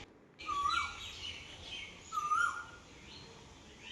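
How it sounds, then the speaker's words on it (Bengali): A cuckoo calls twice in the morning, each call a short, clear, rising whistled phrase a couple of seconds apart, heard moderately close over quiet background hiss. "কোকিলের ডাক।"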